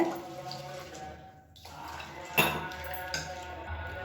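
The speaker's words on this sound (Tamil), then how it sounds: "நல்லா ஒரு 2-3 தடவை கழுவிக்கலாம். நல்ல தண்ணி ஊற்றி கழுவிக்கோங்க." Beaten rice flakes (aval) being washed in water in a home kitchen: soft sloshing and swishing in a vessel with small clinks against the pot, faint and close.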